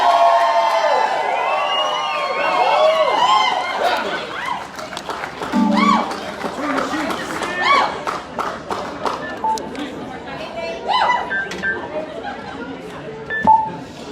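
A live concert crowd applauds and cheers for the lead singer, with sustained clapping, whoops and whistles rising and falling, and voices talking over the noise.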